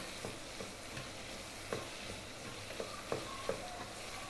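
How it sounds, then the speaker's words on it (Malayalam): Potatoes, green chilies and tomatoes sautéing in a pan give a steady soft sizzle with light scraping stir strokes every half second or so, faint and close, with no talk. "ഇപ്പോൾ നമ്മുടെ ഉരുളക്കിഴങ്ങും പച്ചമുളകും തക്കാളിയും എല്ലാം മൂത്തിട്ടുണ്ട്, എല്ലാം വഴണ്ടു വന്നിട്ടുണ്ട്."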